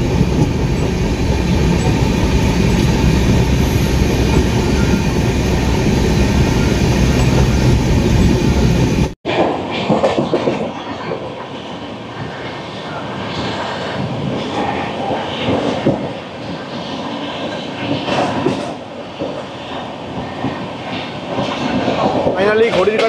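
Lalkuan Express running shortly after leaving Gaya Junction: a loud, steady onboard roar of wheels and carriage that cuts abruptly to a quieter, rattling interior rumble with occasional clunks.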